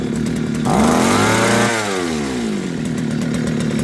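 A Toyama outboard motor on a fishing kayak, running loud and close with a buzzy two-stroke drone that revs up and falls back before settling into a steady run.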